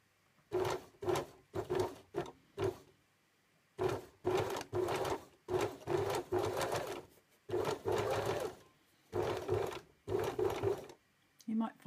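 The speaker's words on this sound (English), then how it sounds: "I'm going to stitch along the seam allowance around the edge of the collar as I've marked it there" Close by, a sewing machine stitches a flat Peter Pan collar along its 1.5 cm seam allowance in a series of short whirring bursts with brief stops between runs.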